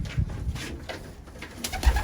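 Racing pigeons coo in low, soft, repeated murmurs at close range, with a few brief higher chirps and rustles in the loft and no talking.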